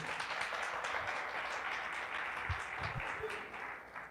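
A church congregation applauds in a broad, even wash of clapping that holds steady and then tapers off slightly at the end, heard from a distance.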